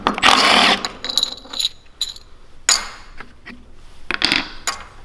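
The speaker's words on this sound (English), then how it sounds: "we can take out this 13/16 nut right here" A wrench works a 13/16 nut off the starter cup and flywheel of a go kart engine: bursts of close metallic ratcheting and clicking, with a long rasp at the start and a few shorter clicks after, no speech.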